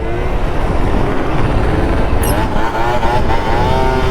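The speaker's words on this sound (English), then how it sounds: "Another scooter rider." Scooter riding by at close range, a buzzing small engine whose rising and falling whine runs steadily for several seconds.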